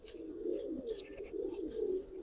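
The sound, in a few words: Giribaz pigeons cooing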